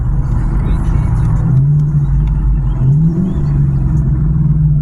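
A car engine revs loudly and close by, its pitch climbing and falling twice over a steady low rumble.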